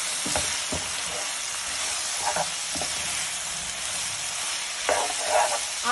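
Chicken chow mein with vegetables sizzles steadily in a hot pan while stir-frying, with a constant loud hiss broken by several scraping stirs and tossing sounds, and no voices.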